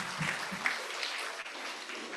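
Conference audience applause for a panel, a wash of clapping at moderate distance, fairly faint and continuous with brief voice-like traces near the start.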